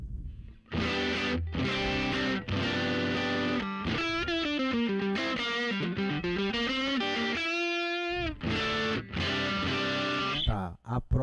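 Electric guitar played through an amp model on a Fractal AX8 modeler, with distorted, effects-laden chords and some sustained single notes, close and loud with no talking over it.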